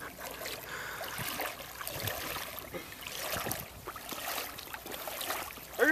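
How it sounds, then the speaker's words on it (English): Water sloshing and swirling around legs wading through a deep creek, a soft, continuous churning that rises and falls with each step, fairly faint and close, with no talking. "walking through the creek."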